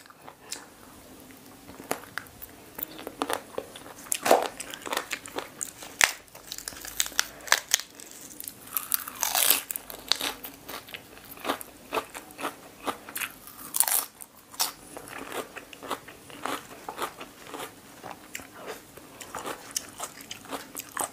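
Chicken feet bones in a spicy Thai pounded salad with fermented fish sauce are crunched and chewed up close, a long run of irregular crisp bites and crackling chews without speech.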